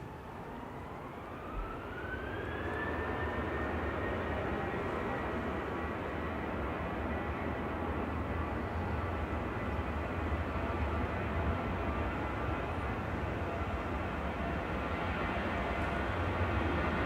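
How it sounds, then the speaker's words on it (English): A Ryanair airliner departing Manchester Airport for Tangier spools up on the runway: a rising engine whine climbs for a couple of seconds, then settles into a steady, loud jet roar that holds throughout. "Ryanair's lined up and ready to go to Tangier"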